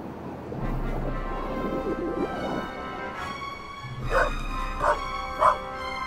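Dog barking in The Raven video game on PS3, a run of sharp, loud barks and yips repeating in the later seconds over a steady low game ambience and music.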